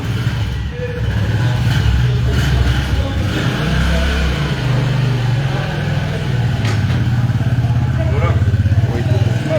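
Two donated motorcycles idle and rev nearby at an outdoor handover event, a steady low engine rumble with a little clatter continuing throughout while people talk in the background.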